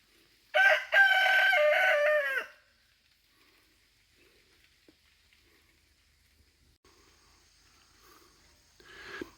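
A backyard chicken flock: one loud, close rooster crow lasting about two seconds, followed by long near-silence with only faint, scattered clucks and small movements, and a brief louder stir at the very end.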